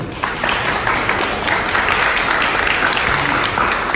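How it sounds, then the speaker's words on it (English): An audience at a ProductCamp talk applauds steadily, dense clapping filling the space from start to finish at an even, moderately loud level. "Please give it up a round of applause for Andrew."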